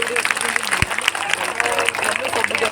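Audience at a live comedy show in Balasore breaks into steady, dense applause, a continuous patter of many hands clapping that holds for the whole stretch, with voices mixed in.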